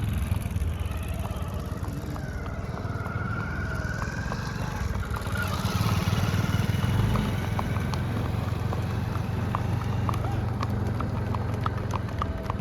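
Horse hooves clip-clop steadily over ground on a village outing with Kathiawari horses, moderately close under a constant background of engine and crowd noise.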